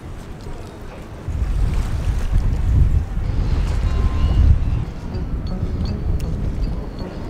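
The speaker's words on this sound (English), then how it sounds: "But the wind is slowly picking up" Wind gusting on a waterfront at a street-performance area, a low rumbling buffet that strengthens midway and then eases, steady and close to the microphone.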